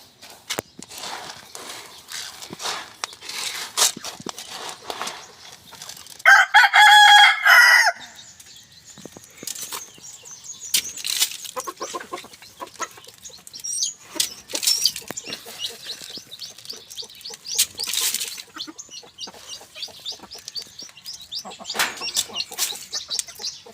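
Farm chickens kept with pigs cluck and chatter nearby throughout, and a rooster lets out one loud crow early on, with scattered scratching and movement but no clear talking.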